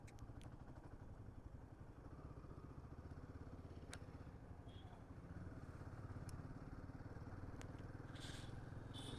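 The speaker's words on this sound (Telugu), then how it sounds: "bike sound" A motorcycle on a 350 km highway ride from Hyderabad to Bhadrachalam drones steadily throughout, its engine rumble blended with rushing wind and road noise, loud and continuous with no pauses.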